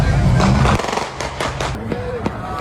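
Sharp cracks and pops burst out at irregular intervals over a rumbling low background, with voices faintly mixed in.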